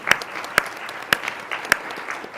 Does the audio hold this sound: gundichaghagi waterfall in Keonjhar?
no